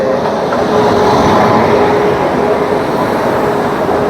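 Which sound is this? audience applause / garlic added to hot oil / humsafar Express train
humsafar Express train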